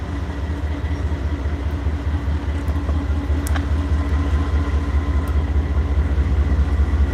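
Freight trains rumble through the DeButts rail yard in Chattanooga, Tennessee, a steady low drone of rolling cars and idling engines with a faint metallic squeal partway through, heard from a distance without voices.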